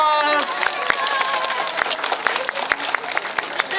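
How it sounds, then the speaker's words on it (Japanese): Festival audience at the Shirataki mountain village festival gives warm applause after a dance troupe's performance; busy clapping runs throughout, with a voice speaking over it at the start. "あの会場から温かい拍手がいっぱいもらえて"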